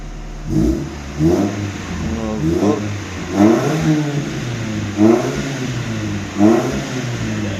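A car engine with a sport exhaust revs hard in repeated bursts, five or six throaty blips with a deep exhaust growl, close by in a garage, settling back to idle between each.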